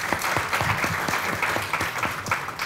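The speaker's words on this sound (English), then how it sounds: "let us give a round of applause to the panel." A conference audience applauds a panel on Black Sea energy security, steady dense clapping filling the room for a few seconds with no talk over it.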